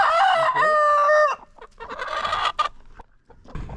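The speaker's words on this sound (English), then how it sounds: "See if we get a little crow going." A homestead rooster crows once, loud and close, in a drawn-out call followed by softer clucking and scratchy farmyard noises.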